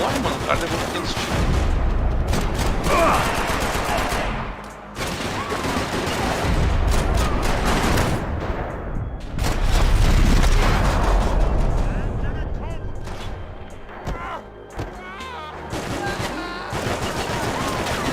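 Gunfire in the Max Payne 3 video game rattles in dense, sustained bursts with heavy booms, loud and continuous, with voices talking over the shooting.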